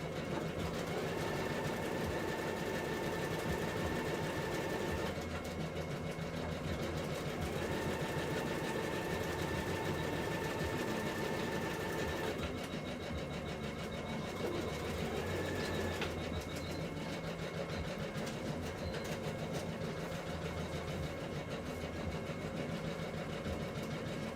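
A sewing machine runs a straight stitch along a 5/8-inch seam allowance in a steady, continuous whir, with brief changes in pace and pauses, fairly close and alone without talk.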